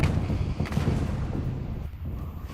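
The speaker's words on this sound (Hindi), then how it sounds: "ईरानी मिसाइल अटैक से जोरदार धमाका हुआ है" An Iranian missile strike on a residential area of Tel Aviv produces a deep, rumbling explosion, a heavy low boom rolling out over a few seconds at a distance, with no speech.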